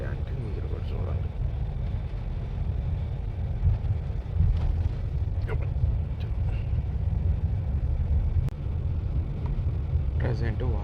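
Low, steady engine rumble and road noise inside an intercity bus travelling from Mumbai to Hyderabad near the Vasai toll plaza, constant throughout with faint scattered knocks and clatter.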